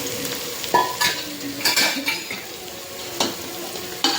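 Spiced chicken coated in curd, chilli powder, masala, turmeric and salt, stirred in a pan for biryani: a close, steady fry sizzle with sharp scrapes and clinks of a spoon against metal, and no voices.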